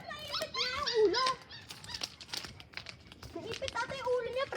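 Puppy with its head stuck, whimpering and yelping in high thin cries close by, mixed with people talking and some crinkling noise.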